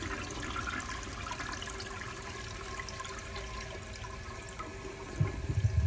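A 1957 Eljer Waco toilet flushes, giving a steady rush of water that ends in a louder gurgling siphon toward the close, recorded nearby with no talking.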